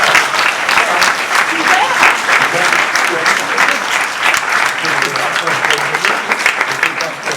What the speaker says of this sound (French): Eh ben bravo. Vous les applaudissez?